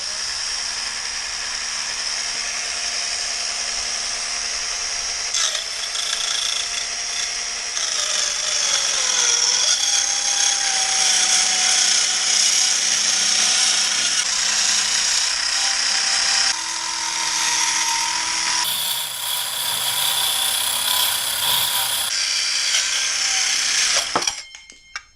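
A power tool cuts a slot into the steel drag link of a lawn tractor, a loud steady whine with shifting pitch that runs almost continuously for about 24 seconds before cutting off abruptly at the end.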